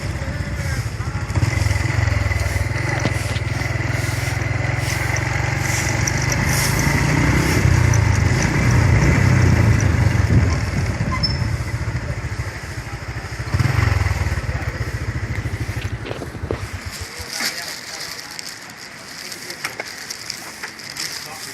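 Motorcycle engine idling and revving nearby on a road near Bedegung Curup Tenang waterfall in Indonesia, a steady low rumble lasting most of the clip before fading out near the end.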